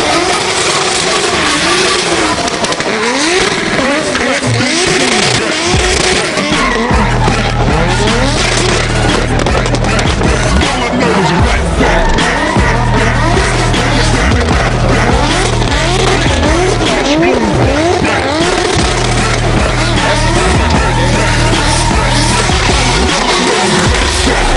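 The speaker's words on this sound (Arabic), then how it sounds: "وخد عربية محمد زردق اللي هينطلق بيها على الستارت لاين خلال اللحظات اللي جاية" A drift car at the Red Bull Car Park Drift competition launches from the start line, its engine roaring loudly and its tires screeching continuously at close range with no break.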